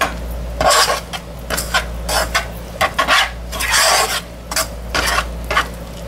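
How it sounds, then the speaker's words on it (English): Homemade ketchup with brown sugar being stirred in a pot, heard as repeated rasping scrapes of a utensil against the pot in uneven bursts. The strokes are close and fairly loud over a low steady hum. "let's just kind of give this a stir a little bit."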